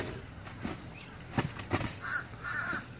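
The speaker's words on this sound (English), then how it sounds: "Look at the crow." Crow cawing outdoors near a goose fight, with a crane nearby; a few harsh calls rise over steady background noise, moderately close and not overlapped by talk.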